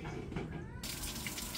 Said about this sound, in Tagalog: naglo-load na siya ng tubig. Ayan, kakarga na po siya ng tubig.